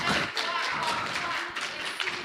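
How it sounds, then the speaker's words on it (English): A youth group audience claps sparsely for Lynn, scattered hand claps and taps ringing out in a room with a murmur of voices underneath. "Clap for Lynn!"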